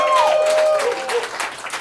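Crowd applause at a stand-up comedy show, a dense wash of clapping with a high sliding whistle or whoop cutting through at the start, then dying down over under two seconds.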